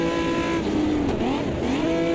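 Simulated race car engine held at full revs with the clutch slipping, circling Road America in Automobilista 2; a loud, steady high-pitched drone with slight pitch swells throughout.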